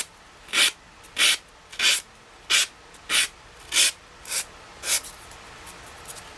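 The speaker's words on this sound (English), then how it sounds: "turning the paper up this way towards the side you're trying to file away and file downwards." Designer paper edge filed downward against a chipboard piece, eight or nine even rasping strokes in a steady rhythm, close and crisp with no talk.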